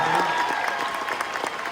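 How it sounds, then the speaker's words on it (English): A high school audience breaks into a short, loud burst of clapping and cheering during a car giveaway event, with a few voices under the applause. "How about a big round of applause for Shalimar?"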